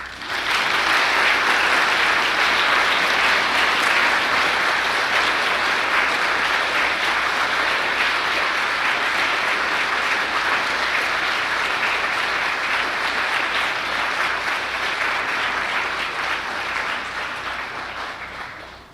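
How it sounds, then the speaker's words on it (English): Sustained applause from a large congregation at a flower communion service, steady and loud for the whole stretch, tapering off slightly at the very end. "now we may clap"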